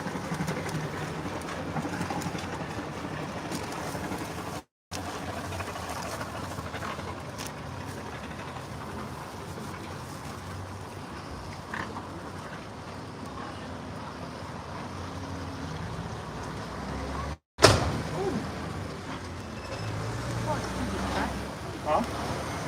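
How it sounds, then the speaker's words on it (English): A hire boat engine chugs steadily as it passes under a bridge at Wroxham, with water lapping and wind noise, a low continuous rumble with a brief sharp knock near the end. "Another hire boat now coming through the bridge."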